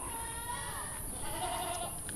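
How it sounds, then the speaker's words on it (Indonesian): Etawa goats bleating at a goat breeding and trading farm, several overlapping calls, fairly near, over a steady hiss of background farm noise. "masnya baru ngeluarin kambing-kambing dagangan kita"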